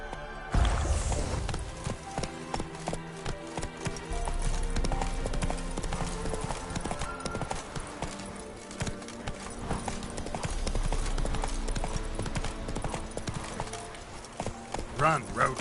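Roach the horse galloping in The Witcher 3, hooves clip-clopping in a quick, driving rhythm through the whole stretch, with game music and a voice heard over the hoofbeats.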